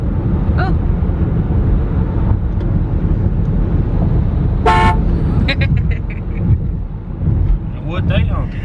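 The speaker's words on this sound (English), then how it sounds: "What they honking?" Car horns honk in traffic over a loud, steady rumble of engine and wind noise, with a short sharp horn blast midway and a few fainter toots around it while people talk nearby.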